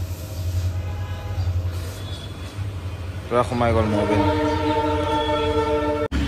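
A low engine rumble gives way to a train's loud, sustained horn blaring over the passing rumble, with a person speaking briefly nearby.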